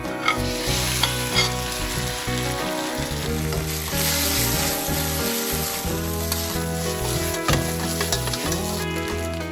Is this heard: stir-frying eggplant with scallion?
yes